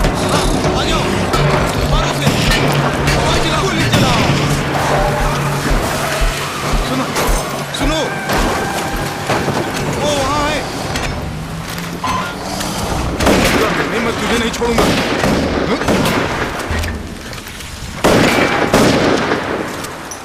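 Dramatic Korean thriller film scene with loud gunshots, bursts of fire and booms mixed with shouting voices in Hindi dubbing and a driving music score.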